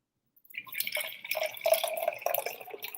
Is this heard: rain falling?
no